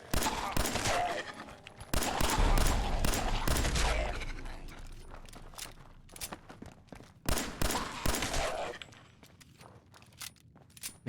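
Fallout 4 gunfire crackles in loud rapid volleys, with one long burst, a pause of scattered shots, and another close rattling barrage, separated by quieter stretches.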